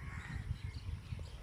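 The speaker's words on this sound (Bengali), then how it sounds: "অনেকগুলো কাক পাখি আসছে" Several crows caw continuously outdoors, their harsh repeated calls overlapping in a steady busy chorus close by, with no voices heard.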